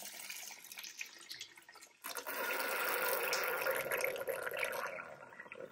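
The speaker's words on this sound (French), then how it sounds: "on a une petite molette ici qu'on va venir tourner qui va nous permettre d'évacuer l'eau directement de le bac à" Water drains from an ultrasonic cleaning tank out through its hose after a small valve knob is turned, a steady close rushing flow that starts abruptly partway through and runs on continuously.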